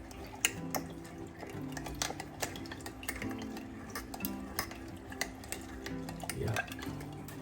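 Soaked dried fruit for plum cake being stirred in a bowl with a spoon: scattered light clinks and scrapes at an irregular pace, fairly quiet and close.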